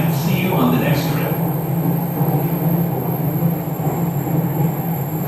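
A Jakarta MRT metro train running, a loud steady rumble and hum of the carriage in motion with a brief higher squeal early on and muffled announcements under the noise.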